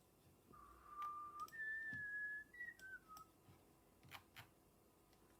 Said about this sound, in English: I thought I was going to do a tune then and I started to whistle and I stopped